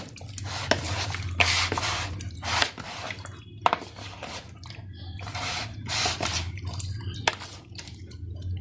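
Fish pieces are mixed by hand with a spice marinade and fresh lemon juice for tawa fried fish. The close, wet squelching and squishing sounds repeat in an uneven rhythm, with occasional light clinks from the bowl.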